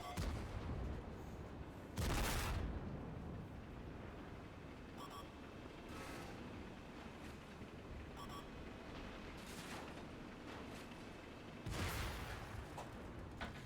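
Several loud explosion booms from tanks in the World of Tanks console game burst at intervals over a steady low rumble of battle noise.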